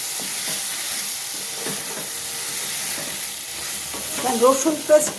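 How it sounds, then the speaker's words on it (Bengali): Food sautés briskly in a pan with a continuous close sizzle and stirring scrapes, the spatter growing livelier and more bubbly toward the end, without any talking. "আমি খুব করে সটে করে নিচ্ছি।"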